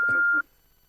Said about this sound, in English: That's his voicemail coming up, Don.